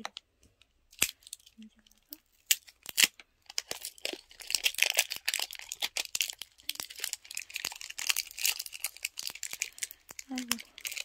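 Sharp, quiet snips and crinkling as scissors cut through battery packaging, irregular and close, with a few brief vocal sounds.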